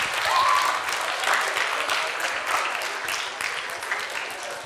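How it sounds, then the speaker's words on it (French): Audience at a school reading-aloud contest clapping warmly for a student reader, dense sustained applause from a roomful of people, close and loud, slowly tapering near the end. "Applaudissez-la bien fort."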